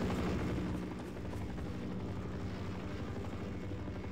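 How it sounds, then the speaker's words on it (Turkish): Helicopter rotor in the video game Half-Life, a steady loud whirring drone that fills the whole clip with no pauses. "Helikopter peşimizden şeyler yolluyor sürekli."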